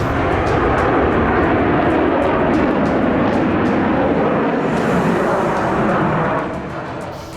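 A Rafale fighter jet roars past, a loud broadband engine rush with rising and falling whooshes that swells and then drops away toward the end, heard alone without speech.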